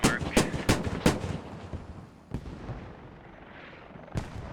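Mortar fire in the military shooter Squad: several sharp, loud reports in quick succession, then isolated distant thumps with rolling echoes over a low background rumble.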